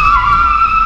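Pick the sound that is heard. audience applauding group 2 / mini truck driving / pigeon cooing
mini truck driving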